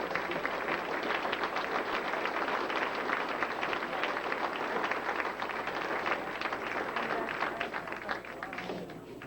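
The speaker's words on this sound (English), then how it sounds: "they deserve a major round of applause" An audience at a youth awards ceremony applauds the participants of a children's race series, a steady, even wash of many hands clapping, somewhat distant and indoors, gently tapering toward the end.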